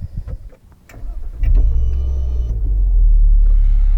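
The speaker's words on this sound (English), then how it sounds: "Let me show you the startup and what I see from a driver's perspective." Maserati Levante S SUV starting up from inside the cabin: a few light taps and clicks, then the engine fires with a loud, deep rumble at about 1.5 seconds and settles into a steady, strong idle.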